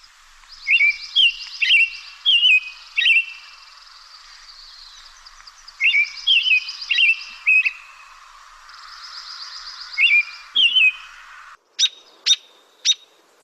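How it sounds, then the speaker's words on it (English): Bright American robin song at Lake Tahoe in short caroling phrases, repeated in bursts with pauses, clear and fairly close, ending with a few sharp chirps. "at the beginning, it's a robin."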